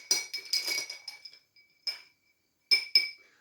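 A bar spoon stirs a Negroni in a glass, giving scattered light clinks against the glass, first in a quick cluster and then a few isolated taps after short pauses.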